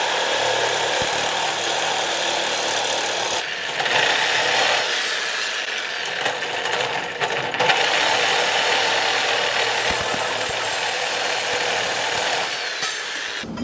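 A power tool cuts steel stock for an intercooler build on a twin-turbo Chevrolet Silverado, a steady loud whining drone that holds throughout with small fluctuations, close by.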